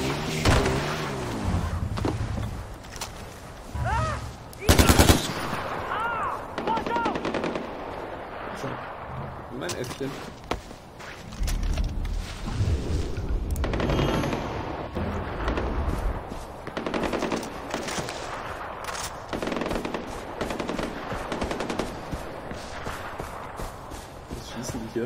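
Gunfire fills a Far Cry 4 game scene, with sustained automatic bursts and heavy booming shots nearly continuous at close range, under intermittent talk.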